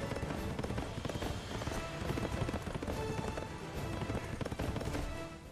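Hooves of a horse galloping in the Berserk video game, a dense, continuous rapid clatter of clip-clop beats with steady loudness and no talking.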